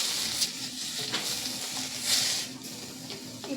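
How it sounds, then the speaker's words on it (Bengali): Chopped tomato and cucumber frying in a pan, a steady soft sizzle with occasional brighter hissing bursts and light stirring sounds, moderately close, with no talking. "কুচনোটা দিয়ে ভালো করে একটু ভেজে নিতে হবে।"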